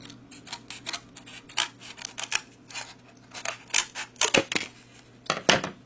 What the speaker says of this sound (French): Je vais me débrouiller pour couper un peu là.